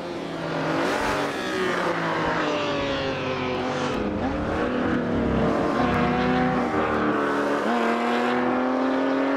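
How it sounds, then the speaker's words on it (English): A V12 vintage race car in the Assetto Corsa racing game at a Goodwood Revival event, screaming loudly and continuously as it revs up and down through gear changes. "I think I take the award at least for the best sounding car in the field with that incredible"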